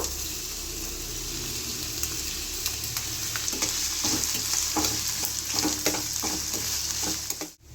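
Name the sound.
finely chopped onions frying in oil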